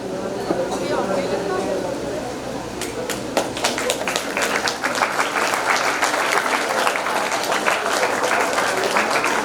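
A school audience at a swearing-in ceremony applauds, beginning with a murmur of voices and building into dense, steady clapping with sharp individual claps standing out near the microphone.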